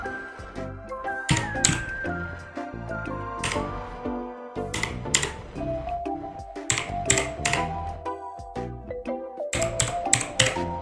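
Typing a game ID for Play Together on a device, a run of close, sharp taps and clicks in irregular bursts over background game music.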